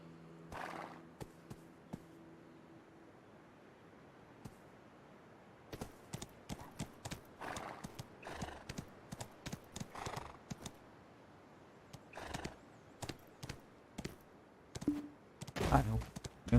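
A horse in a video game neighs near the start, then a long run of hollow hoof clip-clops follows, steady and close, ending in a louder cluster of hits.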